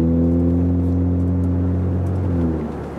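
A 2013 Ford Fusion Titanium with its muffler deleted gives a loud, deep exhaust drone that rumbles steadily up close, low and throaty, easing off slightly at the end.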